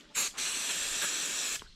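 Two bursts of brake cleaner sprayed from an aerosol can during maintenance on a 2013 BMW 118i F21, a short puff then a sustained loud hiss lasting over a second, close up.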